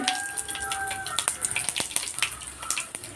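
Dried red chillies dropped into hot coconut oil for tempering a curry, just after mustard and fenugreek seeds: rapid, irregular crackling pops over a sizzling hiss, close and lively throughout.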